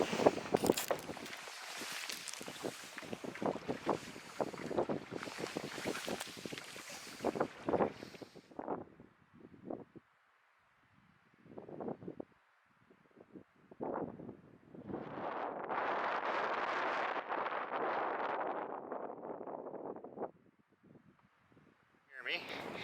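Strong wind buffeting the microphone while canoeing on a lake, gusty roaring bursts with paddling and splashing knocks, fading to quieter stretches before another sustained rush of wind.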